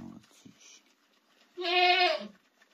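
A newborn goat kid gives one clear, close bleat lasting under a second, preceded by faint, brief rustles and small noises.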